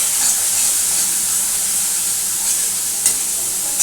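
Fish roe masala stirred and sautéed in a pan with a little water, giving a steady bright sizzling hiss with soft scraping strokes and a brief louder crackle near the end, no voices.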